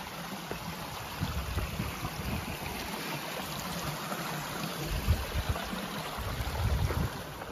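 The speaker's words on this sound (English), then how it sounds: "I hear some more cascades." Water cascades flowing in mountain terrain, a steady broadband rush with low rumble that stays continuous and fairly loud, swelling slightly near the end, with no voices.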